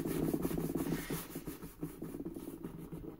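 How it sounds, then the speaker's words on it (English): Someone burnishes material while making a large backpack, pressing and rubbing it in quick, repeated scratchy strokes that sound quiet and close, with no voice over them. "A good old burnish."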